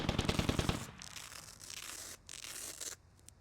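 Gunfire in the Squad video game opens with a rapid burst of automatic shots, then trails off into rumbling, hissing battlefield noise.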